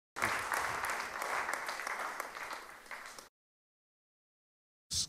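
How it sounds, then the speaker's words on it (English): Applause from an audience at a speech event, a dense sustained patter of many hands lasting about three seconds, then cutting to silence before a brief burst returns at the end. "Give him a round of applause."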